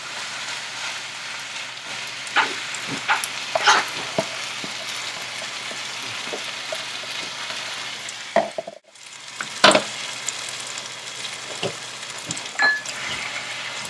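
A pan sizzles steadily while a meat and pasta Italian dish cooks. After a brief pause, a tin of tomatoes goes in with a fresh burst of hissing and bubbling, followed by scattered stirring clatter.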